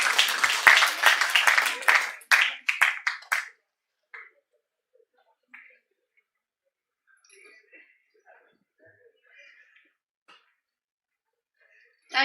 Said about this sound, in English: Let's give a huge round of applause for all the prize winners.